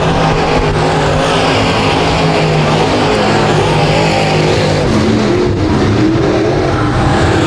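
Rush Late Model race cars roar around the dirt oval at The Dirt Track at Genesee in a dense, continuous pack, engines loud and close throughout with a constant rumbling wash of tire and motor noise.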